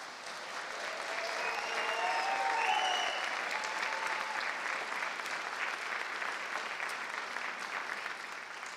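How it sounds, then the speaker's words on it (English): An audience at a school district awards ceremony honoring educators breaks into applause, a dense wash of clapping that swells to a peak near the middle and then holds on steadily, with faint cheers mixed in. "please join me in one last round of applause for all of our honorees tonight."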